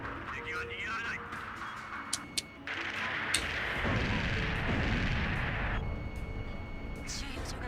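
Explosions and heavy weapon fire from the Ace Combat 5 video game, with a sustained roaring rumble and a few sharp bursts, loud and continuous, layered over a background game voice.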